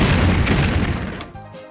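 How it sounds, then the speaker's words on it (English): A loud booming double explosion from a plush Angry Birds toy battle game, heavy and crashing at first, then decaying into quieter rumble with no talk. "Double explosion, that's not fair."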